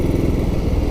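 A 1944 Ariel W/NG trials motorcycle with a 1949 500 VH engine runs close by while out green laning, giving a loud, rapid thumping engine beat throughout with no talk over it.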